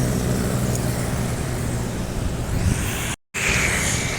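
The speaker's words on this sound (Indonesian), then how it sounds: "ada bus dari arah Sumatera Barat" A bus rolls past on the road by the Keramasan toll gate near the Keramasan bridge in Palembang, a steady broadband roar of traffic with a brief gap of silence near the end.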